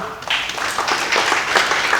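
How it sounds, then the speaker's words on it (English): Audience applause rings out at a baseball commemoration event for the 1948 World Series, a steady wash of many hands clapping throughout, fairly loud and close with no talk over it. "a round of applause"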